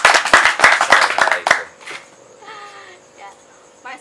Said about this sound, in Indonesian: Kasih tepuk tangan lagi dong